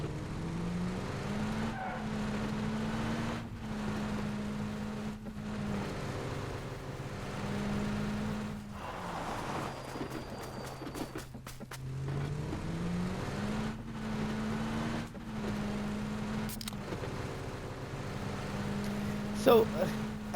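A car driven in PUBG: a steady engine drone whose pitch climbs and drops with gear changes and throttle, running continuously under someone talking, with a brief skid or crackle near the end.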